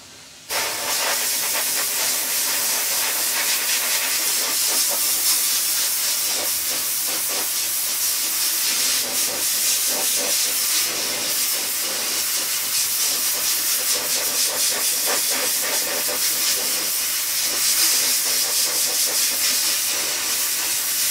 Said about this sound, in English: I haven't done a lot of blasting down here this year.